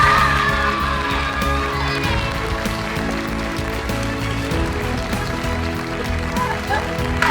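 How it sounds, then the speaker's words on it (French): An audience at an eloquence contest final applauds and cheers loudly, with dense sustained clapping mixed with shouts and whoops. Voices and crowd noise stay strong throughout. "je vous demande d'applaudir Hasna"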